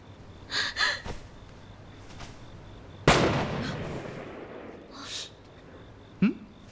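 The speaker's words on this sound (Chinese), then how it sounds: "谁开的枪啊？" A single loud, sharp gunshot cracks out midway through a Republic-era Chinese TV drama scene and decays into a reverberant tail. Breathy gasps and small vocal sounds come before and after it.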